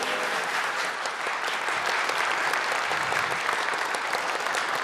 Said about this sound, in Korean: 종합예술단 봄날에 다시 한번 뜨거운 박수 부탁드립니다.